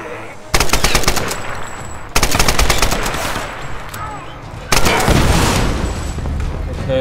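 Heavy automatic gunfire and blasts rattle through a gunfight in the Tomb Raider video game, loud, dense bursts that restart in three surges, with a voice speaking faintly underneath.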